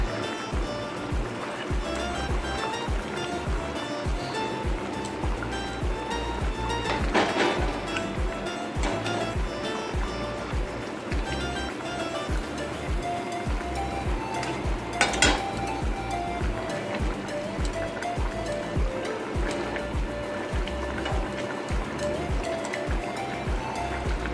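Katla fish and spice powder go into a simmering potato curry, giving continuous bubbling and sizzle with occasional spoon-on-pan scrapes and two brief louder clatters.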